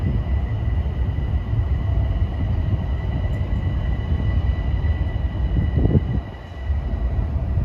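A train eases slowly into Harlem 125th Street station, a steady rumble of rolling wheels with a brief metallic squeal near the end, heard alone without talk.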